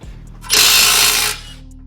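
A pneumatic impact wrench rattles in one loud burst of just under a second, spinning off a 21 mm 12-point tie rod end nut on a Mercedes GLS front suspension, quiet shop before and after.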